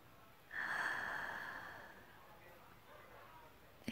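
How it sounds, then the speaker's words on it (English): One slow, soft breath is let out close by, a breathy exhale that swells suddenly, then fades gradually over a few seconds with faint background noise. "Exhale."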